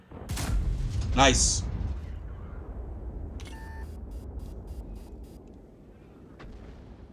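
Gunfire in a video game: a sharp burst of shots near the start, followed by lower booming rumble and faint scattered clicks, with a single short comment spoken over it.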